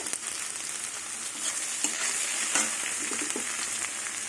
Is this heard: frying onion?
yes